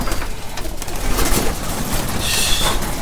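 Pigeons cooing in a loft, a dense wash of soft, overlapping coos and bird calls that stays steady and close, with no talking.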